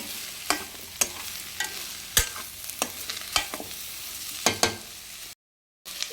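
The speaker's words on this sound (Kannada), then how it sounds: "ಲೋ ಫ್ಲೇಮಲ್ಲೇ ನಾವು ಆದಷ್ಟು ಇದನ್ನೆಲ್ಲ ಫ್ರೈ ಮಾಡ್ಕೋಬೇಕು" Gentle frying sizzle on a low flame as masala ingredients for paneer gravy cook, under repeated sharp scrapes and clinks of a spoon stirring in a pan, irregular taps about every half second, close by.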